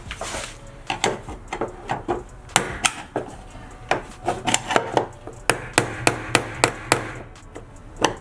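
Sharp, irregular taps of a small hammer striking metal and wood, some in quick bursts, close by and fairly loud.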